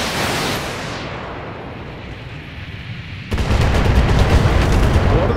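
An LRM-15 missile volley fires in a BattleTech video game: a loud, rushing roar gives way to an abrupt, heavier barrage of rapid blasts that keeps pounding to the end.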